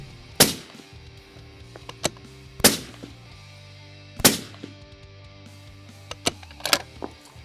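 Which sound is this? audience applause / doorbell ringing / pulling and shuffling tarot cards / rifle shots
rifle shots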